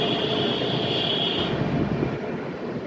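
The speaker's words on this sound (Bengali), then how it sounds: "এটা হলো মিথিলা এক্সপ্রেস" The Howrah–Mithila Express passenger train rolls by with a loud, continuous rumble, and a high whine fades out about halfway through.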